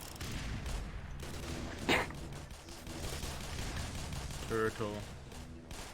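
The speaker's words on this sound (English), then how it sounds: "I just sniped someone with a revolver" Sharp revolver shots in a Black Mesa deathmatch, a couple of distinct loud cracks spaced apart over a busy game background, with someone speaking briefly.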